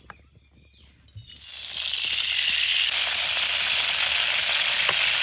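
Cooking oil for chicken biryani bursts into a loud, steady sizzle in a pan after about a second of near quiet, then keeps up a dense, close hiss with faint crackles to the end, no voices.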